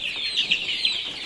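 Chickens cluck softly in a backyard coop, with several short calls rising over a steady, fairly close background of hissing noise.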